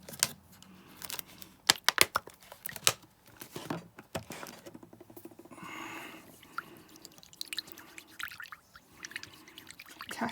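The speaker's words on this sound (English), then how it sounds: "Let's put a bit more water in." Water poured into a paint mixing bowl while thinning paint for a model kit, a short trickling pour in the middle among scattered small clicks and taps nearby.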